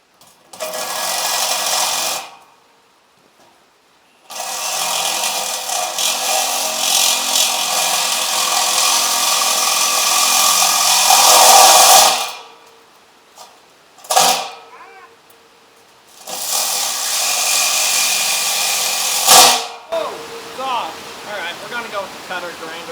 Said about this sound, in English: Cutter grinder.